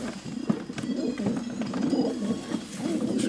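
Janssen line racing pigeons cooing in a loft, several overlapping throaty coos close by, fairly loud and continuous without any talk.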